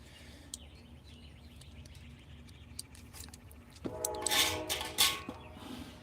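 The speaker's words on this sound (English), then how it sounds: "You can also hear the train from here," A train passes near an outdoor spot where birds chirp. A low rumble builds and swells over the last two seconds, while scattered birdsong sounds throughout.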